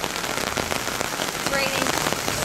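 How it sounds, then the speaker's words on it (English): Heavy rain pours down steadily in Tsuwano, Japan, a dense, loud hiss of drops drumming on surfaces throughout, close and unbroken. "It's not just raining. It's pouring."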